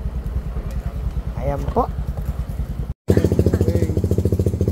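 A Raider FI 150 motorcycle engine idles on a dyno at an ECU tuning shop, a steady, loud, close throbbing putter with a brief cut, while a person speaks over it.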